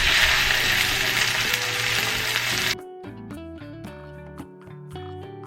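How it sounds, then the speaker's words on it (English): Sea bass fillet sizzles skin side down in a lightly oiled nonstick pan over medium heat, a steady bright hiss for a few seconds before it gives way to plucked, tuneful music. "Lightly coat a nonstick pan with cooking oil on medium heat and cook the skin side down first"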